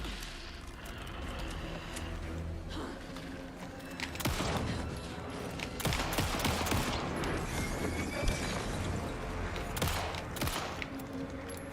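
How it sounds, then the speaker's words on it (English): Gunfire in the video game Alan Wake 2, a dense run of sharp shots and bursts layered over continuous game background noise and mechanical clatter, growing busier and louder through the middle. "I whiffed all of those shots"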